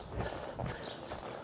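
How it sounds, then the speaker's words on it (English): A performance horse, used for reining, walks with muffled hoof clip-clops amid dense background noise. The steps are close and uneven, with no talk. "It's a performance horse."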